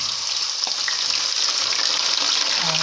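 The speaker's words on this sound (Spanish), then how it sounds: "Primero freímos las patatas." Sliced potatoes frying in smoking-hot oil in a pan, a steady close sizzle and crackle running loud and unbroken with no talking over it.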